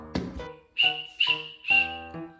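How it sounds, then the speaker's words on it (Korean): Three short, shrill whistle blasts sound in quick succession, close and fairly loud, after a brief thump at the start. "호루라기"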